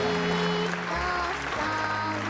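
Audience applause and cheering fill a hall after a performance by the Little Angels children's troupe. It is a steady, dense wash of clapping with faint tonal sound underneath.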